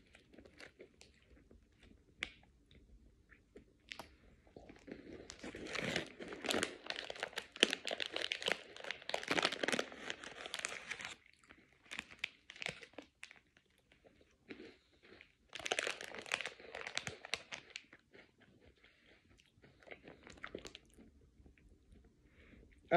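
Crunchy Hello Panda biscuits with milk-flavour filling chewed close to the mic, bursts of crisp crunching separated by quieter pauses, with faint crinkling in between.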